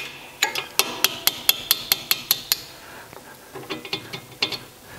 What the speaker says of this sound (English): take my punch, put some pressure against that, and a lot of the times I can just work out the pin